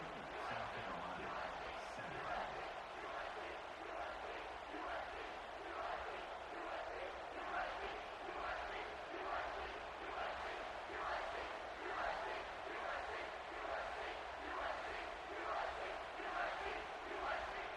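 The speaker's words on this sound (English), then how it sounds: "this crowd is feeling themselves after that last drive" A stadium crowd in a football video game roars and chants in a dense, continuous wall of cheering after a scoring drive, steady at moderate loudness with commentary voices woven through it.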